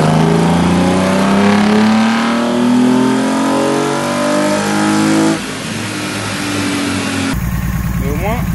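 A BMW 328i E36 with the M52B28 inline-six revs on a dyno, its rising engine note loud and sustained. It then cuts abruptly to a lower, rougher running sound and finally to a different, buzzier engine segment.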